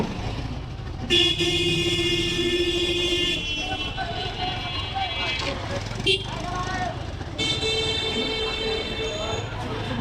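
Several vehicle horns honk in long and short blasts over busy road traffic noise, with overlapping tones from nearby cars.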